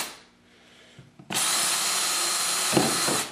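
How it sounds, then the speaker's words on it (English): A power drill boring pilot holes for screws into wooden shelves of a top bar bee hive, a quiet pause and then a loud, steady close-up whir that shifts briefly mid-cut. "Now I'm going to drill 3 pilot holes for screws."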